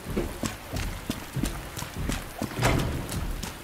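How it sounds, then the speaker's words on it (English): Heavy, thudding footsteps of the Tyrant stalking nearby in the Resident Evil 2 Remake video game, a rapid irregular series of loud impacts. "Why do I keep hearing his footsteps?"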